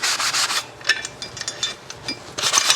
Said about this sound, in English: I'm just gonna take that sanding block and get underneath